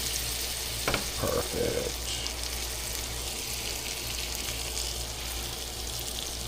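Seasoned black drum fillets sizzle steadily in a frying pan, a constant close hiss with a few soft clinks near the start and one brief spoken word.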